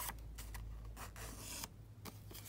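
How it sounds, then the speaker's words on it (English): Scissors snip through a paper envelope while envelope pockets are being made, giving several short crisp cuts with soft rubbing between them, close and quiet, with no talking. "I'm just going to cut this in slightly"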